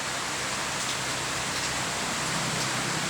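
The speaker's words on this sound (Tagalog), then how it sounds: "Umulan kasi umulan ngayong gabi sa amin." Steady rain falls through the night, a dense, even hiss with no distinct drops and no voices, constant from start to finish.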